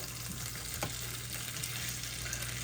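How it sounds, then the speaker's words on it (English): Onions frying over high heat in a pan on an electric stove, a steady close sizzle with a brief stir or scrape partway through, no talking. "The onions are cooking down."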